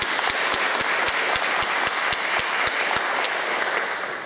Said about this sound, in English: so why don't we give them all a round of applause once more.